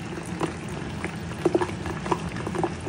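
Sisig sizzling and bubbling in a hot pan, with scattered pops and spits of splattering oil over a steady crackling bed, close and fairly loud.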